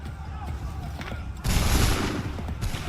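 Musket volley gunfire in the Assassin's Creed III Remastered video game: a loud, dense burst of massed shots erupts partway through, over an ongoing battlefield din with shouted orders.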